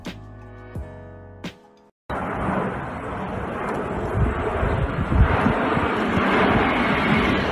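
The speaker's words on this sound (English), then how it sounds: "this is an amazing low pass of a Superjet 100" A Sukhoi Superjet 100 airliner roars past on a low pass, its engine noise swelling loud and steady with wind buffeting the microphone, after a short burst of music.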